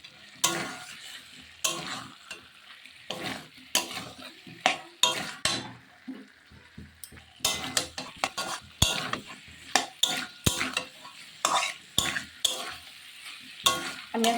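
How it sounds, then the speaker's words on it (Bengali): Masala for a duck egg and potato curry is stirred and fried in a pan, with repeated spoon scrapes and knocks over a low, steady sizzle that runs throughout. "আমি এখন 5 মিনিট একটু ভালোভাবে কষিয়ে নেব।"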